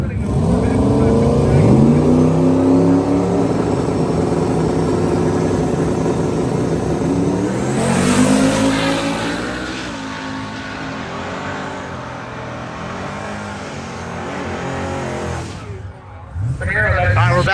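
Drag race car launching down a drag strip lane during a drag-and-drive racing event: a loud, sustained engine roar that pitches up through gear changes, then drops away near the end as the run winds down.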